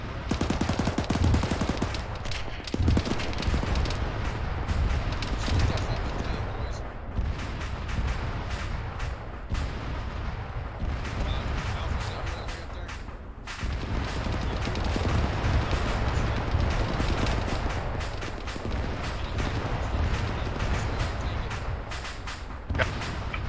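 Continuous heavy gunfire in the military game ArmA 3, with overlapping machine-gun bursts and booming shots that keep going at a steady loud level for the whole stretch.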